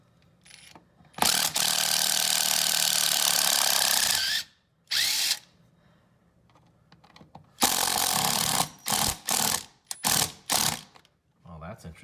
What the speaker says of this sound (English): I'm just going to use my electric screwdriver to speed things up.